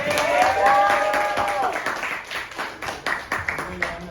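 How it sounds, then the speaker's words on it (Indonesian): A brief round of hand clapping from a small group of students in a classroom, starting strong and thinning into scattered claps, with some talking mixed in. "Tepuk tangan."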